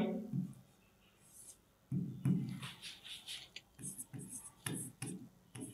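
Chalk or marker scratches and taps on a board while a trigonometry problem is written out, short strokes in bursts, close and moderately quiet, alternating with someone talking.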